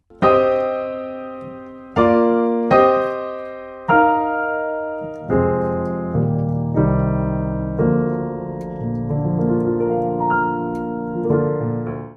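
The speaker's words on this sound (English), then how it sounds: "the technical term for what we're doing here is like open piano chord voicings" Piano plays a slow sequence of wide, sustained open chord voicings, each struck firmly and left to ring, with low bass notes filling out the voicings.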